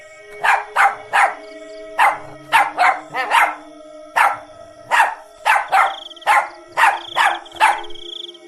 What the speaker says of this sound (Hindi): वो जोर जोर से भौंकने लगता है।